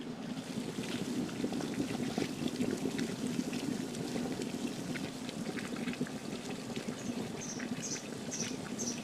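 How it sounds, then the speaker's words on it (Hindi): Fresh quicklime slaking in water inside a clay pot, boiling hard with a dense, continuous bubbling and fizzing, close and steady, with scattered crackles and no talk. "बॉईल हो रहा है, इसके हाथ भी नहीं लगा सकते, अभी तो मटकी के भी हाथ नहीं लगा सकते"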